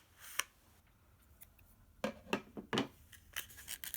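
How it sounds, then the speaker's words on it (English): Scissors cutting straight down the side of a cardboard toilet paper tube, a series of sharp snips and crisp crunching cuts, sparse at first and then coming in quicker bursts, close and quiet with no talking. "Start by cutting down the side of one of your toilet paper tubes."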